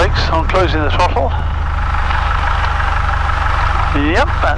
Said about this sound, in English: We'll just leave it here for a moment while we warm the engine up.